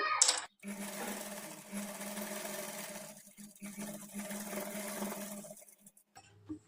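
A sewing machine runs double stitches along trouser fabric, a close, whirring motor hum with rapid needle rhythm in bursts separated by brief pauses.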